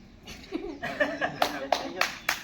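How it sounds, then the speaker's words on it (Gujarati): A few sharp hand claps for the winner of a left-right game ring out near the end, mixed with people talking and laughing nearby. "તાળી પાડો એલા"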